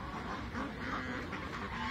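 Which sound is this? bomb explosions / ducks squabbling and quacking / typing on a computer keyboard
ducks squabbling and quacking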